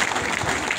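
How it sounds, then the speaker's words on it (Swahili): Audience applause at a funeral eulogy: a short, steady burst of many hands clapping together, dense and continuous, with no distinct individual claps or voices standing out. "Simwapigieni makofi."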